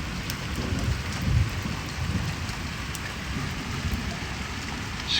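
Heavy rain pours steadily in Dujail as a continuous dense hiss with scattered drops striking surfaces nearby and occasional low rumbles, and no one speaks.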